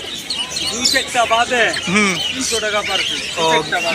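Many pigeons of assorted breeds at a Fatullah, Narayanganj pigeon market coo, flutter and chirp in a dense, busy chorus, with traders talking loudly over the birds throughout.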